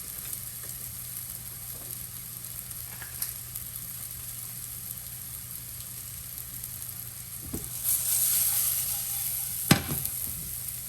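Shallots caramelizing with salt and pepper in a hot pan that held pork chops, giving a steady close sizzle and crackle throughout, swelling louder near the end with a few sharp pops.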